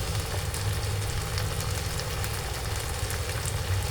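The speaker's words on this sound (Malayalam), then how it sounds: "ആ മുട്ട ഏതായാലും ഒന്ന് വേവട്ടല്ലേ" Egg frying in a pan over a fire, giving a steady, soft sizzle with a low background hum that holds at an even level throughout, no talking.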